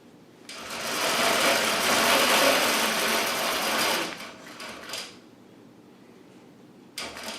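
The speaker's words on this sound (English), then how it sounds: "All right, let's stitch those out." A Quilt EZ Butler quilting machine stitches a nested pantograph along the bottom row of a quilt, giving a loud, steady mechanical whir for about three and a half seconds. It then drops to a quieter run, stops, and briefly starts again at the end.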